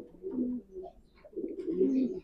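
Racing pigeons in a loft give two bursts of soft, low throaty cooing, close and moderately loud, with no one speaking.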